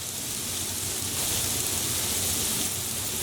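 Onions dropped into a hot pan on high heat for spaghetti and meatballs give off a steady, dense sizzling hiss that holds at an even level throughout, with no voices.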